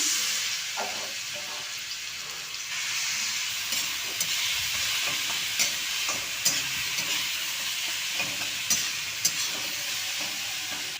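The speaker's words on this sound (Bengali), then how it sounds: "এই তেলের মধ্যেই আমি পটল আর আলু দুটোই দিয়ে দিলাম" Pointed gourd and potato pieces frying in hot oil in a kadai, giving a steady close sizzle and hiss with occasional crackles and stirring scrapes, no talking.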